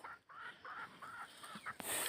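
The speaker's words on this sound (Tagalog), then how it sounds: "Mga manok ko." Farm chickens on a rural Philippine plot, giving a few short clucking calls in quick succession at moderate distance, followed by a brief burst of louder noise at the end.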